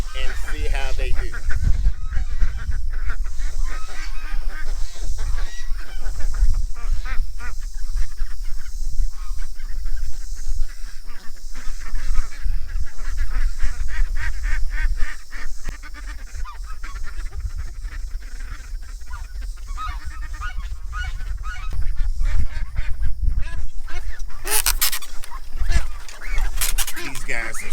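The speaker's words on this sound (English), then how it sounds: "Look at the goose." Geese honking repeatedly at a homestead as they are let out of a Gallagher 84-foot electric fence enclosure, loud and close over steady outdoor noise, with people talking nearby.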